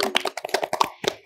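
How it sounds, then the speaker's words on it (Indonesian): A few people clap in a small group, giving a quick burst of uneven, close hand claps that sound fairly loud with no talking over them. "tepuk tangan dulu dong buat kita"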